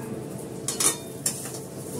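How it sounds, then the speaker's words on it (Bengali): Lentils frying in ghee over cumin seeds, a soft sizzle beneath a few sharp scrapes and clinks of a utensil stirring against the pan, no one speaking. "ভালো করে ঘিতে ডালটা ভেজে নিই"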